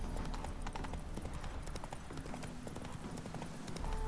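Horse galloping during a horse race in the video game The Witcher 3, with a quick, steady clip-clop of hooves close by that keeps an even rhythm throughout.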